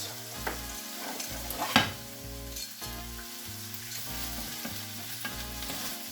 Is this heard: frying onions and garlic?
yes